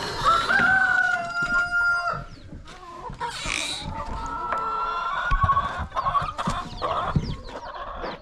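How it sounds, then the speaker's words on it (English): Chickens on a home farm cluck and squawk close by while a rooster crows loudly near the start, with more bird calls and scattered clucks continuing throughout. "So I have so many chicken here."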